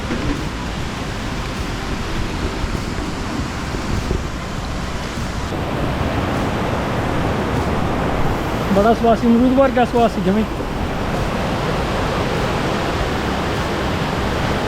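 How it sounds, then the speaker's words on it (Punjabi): Mae Klang Waterfall near Chiang Mai, Thailand, gives a constant broad rushing roar throughout, with someone talking briefly over the water noise. "ਲੋ ਜੀ ਆਪਾਂ ਝਰਨਾ ਤੇ ਆ"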